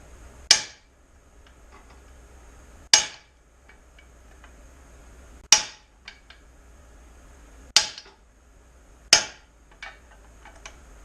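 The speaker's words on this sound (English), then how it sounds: "I just tapped it out with the hammer, hitting it up, hitting the top of the extension." Five sharp metallic hammer strikes, spaced a couple of seconds apart, ring out up close as a hammer taps out a front suspension control arm on a 1992 Chevy S10 Blazer, each knock decaying quickly with no talking.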